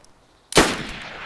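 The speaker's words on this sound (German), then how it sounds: "Schieß mal fünfmal." A single loud Magnum revolver shot in the video game DayZ cracks out abruptly after a moment of near silence, followed by a short decaying echo.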